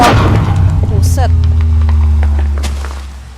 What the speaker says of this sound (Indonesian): Itu suara Warden emang seperti itu kah?